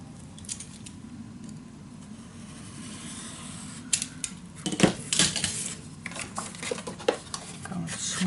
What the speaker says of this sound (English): Alright, so again I'm going to cut this piece off.